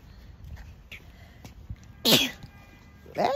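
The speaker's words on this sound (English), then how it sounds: "That big boy sneeze." A single loud sneeze from a boy bursts out suddenly near the microphone after a stretch of quiet room noise, followed by a brief sharp sound at the end.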